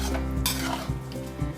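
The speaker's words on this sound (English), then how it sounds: "Finally garnish with fresh coriander leaves and now mix it well." Veg korma stirred in a pan after coriander garnish, a close scraping of utensil against metal with soft sizzling underneath, rhythmic strokes, no voices.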